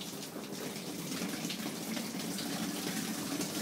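Water rushing through a siphon hose into an empty bottom tank, a steady continuous gush filling the whole stretch at close range with no voices.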